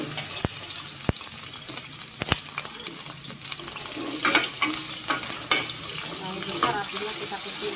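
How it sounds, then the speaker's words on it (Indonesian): Garlic sizzles and crackles in hot oil in a home kitchen while cooking lontong Betawi, with a steady fry punctuated by sharp clinks and stirring scrapes, heard close. "Karena minyak udah matang Mama taruh ya bawang putihnya."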